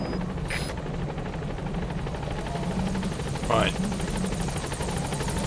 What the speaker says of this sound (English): Here comes my helicopter.